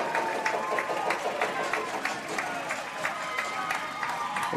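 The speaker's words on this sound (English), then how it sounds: "The Tampa bench is active, clapping it up." The Tampa baseball bench claps after a home run at an NCAA Tournament game against Nova Southeastern, with rhythmic clapping and crowd noise sustained at moderate loudness.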